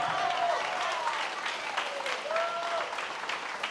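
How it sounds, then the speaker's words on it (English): Audience at a trading seminar in Cancun bursts into applause, a moderately loud, continuous clapping with faint cheers or voices mixed in, lasting several seconds. "Let's clap for that"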